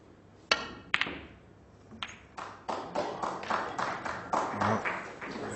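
A snooker crowd at a world championship semi-final breaks into applause after a shot, starting with a few sharp isolated claps and swelling into a steady, moderately close round of clapping.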